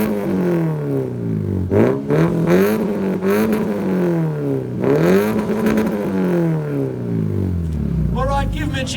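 A modified street car bangs against its rev limiter on a 2-step launch control at a car meet. Loud engine drone rises and falls repeatedly, close by, with sharp exhaust pops and crackles at the end.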